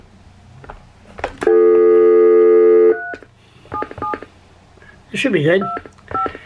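A telephone dials with a long steady tone followed by a quick series of short keypad beeps, close and clear, while someone talks briefly in between.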